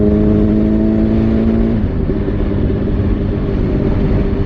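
A motorbike engine on the road, heard from the rider's seat, drones loud and steady with a rising tone that shifts partway through, while constant wind rush fills the background and nobody speaks.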